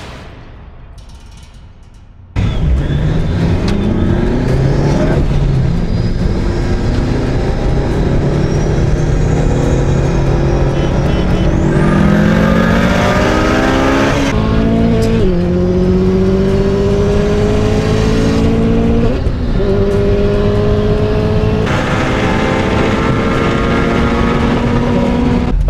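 Turbocharged 400 hp Honda Civic drag racing a Subaru Legacy, heard from inside as the engine roars hard through repeated rising revs and gear shifts, loud and continuous with no talk.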